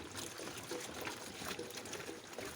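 Rice water pours and trickles steadily for a couple of seconds, a soft continuous splashing close by with no voices.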